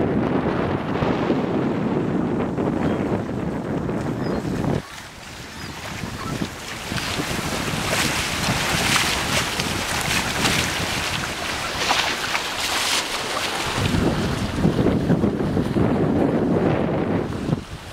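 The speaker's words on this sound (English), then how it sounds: "absolutely gorgeous evening sail. We're doing about eight and a half knots" A sailboat rushes through the water at about eight and a half knots in strong wind on a smooth, fast evening run, with a steady roar of wind noise and hissing spray and waves throughout.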